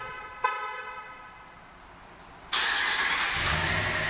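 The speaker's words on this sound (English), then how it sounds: "it's got remote start" A short honk of a 2009 Dodge Ram Laramie pickup horn, then its engine cranks by remote start at about two and a half seconds, settling into a loud steady idle.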